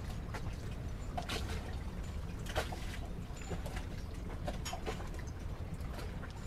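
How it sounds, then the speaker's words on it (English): Water laps and splashes against a dinghy tied beside a boat, soft irregular slaps over a steady low rumble that may be a generator running on board, fairly quiet throughout. "All I hear is the water splashing on the dinghy."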